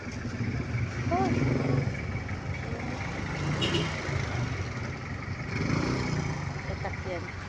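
A motor vehicle passes on a road, its engine rumble swelling and fading amid steady traffic noise, with faint voices in the background.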